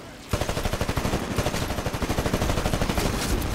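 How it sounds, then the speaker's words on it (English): Rapid automatic gunfire in a capture-the-flag shooter game, a loud steady burst of evenly spaced shots that starts abruptly and keeps rattling for several seconds. "Oh, the shots, man."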